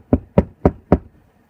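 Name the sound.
knocking on a door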